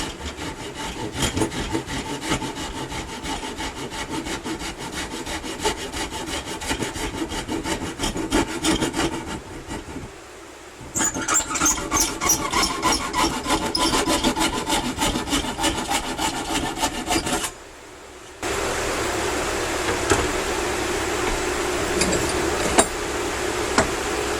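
Hand saw cutting wood for a bread box, a steady rhythmic rasp of close, loud strokes that stops briefly twice before resuming.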